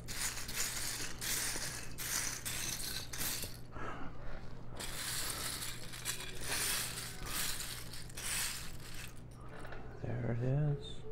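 Hands rummage through a pile of LEGO pieces, giving bursts of plastic clattering and rattling, close and continuous with brief pauses, while a voice speaks over it.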